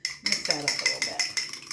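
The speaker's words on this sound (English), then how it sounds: "Mix that up a little bit." An egg being mixed into cherry pie bar batter in a bowl, with quick rhythmic scraping and tapping of a utensil against the bowl, close up, while a person talks over it.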